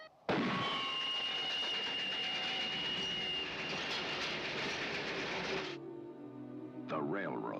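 A train running on a railroad in a film, a loud continuous rumble and rattle of rolling cars with a high metallic whine, cutting off sharply before brief tonal sounds at the end.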